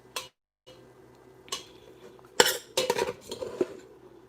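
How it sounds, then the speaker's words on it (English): A utensil scrapes and clinks against a pot while chicken spaghetti is stirred over low heat, giving a few sharp metallic knocks and scrapes in an irregular rhythm, close by in a quiet kitchen. "So I'm just going to stir everything up."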